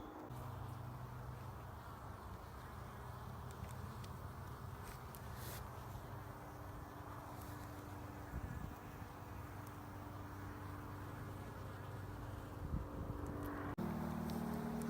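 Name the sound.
honey bees buzzing around a healthy hive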